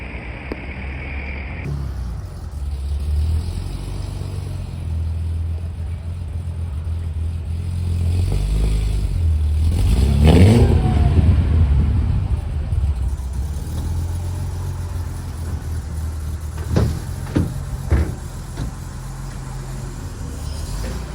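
A car spotted on the street in Deauville, its engine rumbling and rising into a loud rev near the middle before settling back to a low idle, with some clattering and passing traffic around it.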